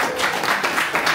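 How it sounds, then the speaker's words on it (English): Steady crowd applause, a dense wash of clapping hands sustained throughout without any voices standing out. "Let's give them one more round of applause."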